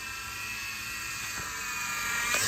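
A Hercules RC helicopter flies close by with a steady high-pitched motor whine, its pitch shifting slightly as the throttle is worked, growing a little louder toward the end.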